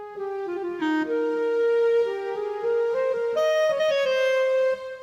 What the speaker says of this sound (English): clarinet sound, which sounds something like this.